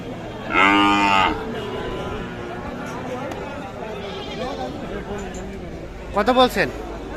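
Two loud, drawn-out cow moos, one early and one near the end, over a crowded market murmur with people talking throughout.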